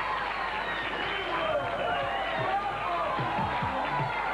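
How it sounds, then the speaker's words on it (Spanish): A studio audience applauds and shouts for the performer Alexis Gómez, a dense, steady roar of clapping and crowd voices that holds at the same level throughout. "la gente prácticamente aplaudiendo y pidiendo a gritos"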